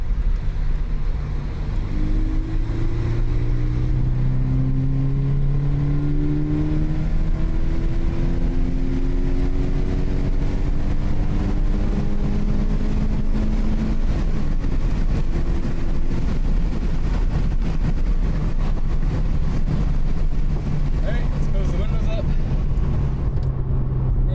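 A Toyota GT86 fitted with an HKS intake pulls uphill in third gear, its engine drone rising steadily in pitch under cabin road rumble over about twenty seconds, with a voice talking over it.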